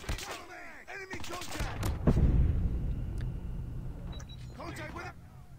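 Call of Duty Mobile gunfire crackles in bursts, with a heavy boom and fading rumble in the middle, while a voice talks over parts of it.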